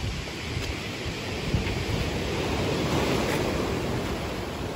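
Ocean waves washing steadily onto a shoreline, a continuous broadband rush of surf with gentle swells and some wind noise on the microphone, no voices.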